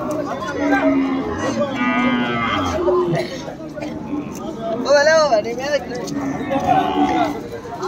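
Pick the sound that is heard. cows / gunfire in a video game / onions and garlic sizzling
cows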